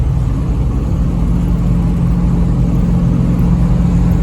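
A revived Dodge Ramcharger on its first test drive at road speed, its engine giving a loud, steady, close rumble with road noise and no talking.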